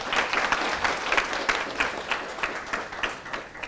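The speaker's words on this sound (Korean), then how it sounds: "뜨거운 박수로 아주" An audience at a vinegar-school lecture on sourness and acidulants gives warm applause, a moderately distant, even patter of many hands with slight pulsing swells across the few seconds.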